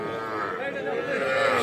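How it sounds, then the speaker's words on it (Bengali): Calves and cattle low at Ambari weekly cattle market, a sustained, close moo rising steadily over a faint murmur of crowd chatter. "ছোট ছোট বাছুর, আর আমরা রয়েছি আমবাড়ি হাটে"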